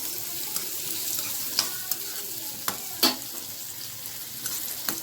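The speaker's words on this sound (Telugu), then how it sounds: "ఉల్లిపాయలు మగ్గినాక తాలింపులు వేసుకున్నాను ఫ్రెండ్స్." Onions with tempering spices frying in a pan, giving a steady close sizzle broken by a few sharp clinks and scrapes of a spoon stirring, with no voices.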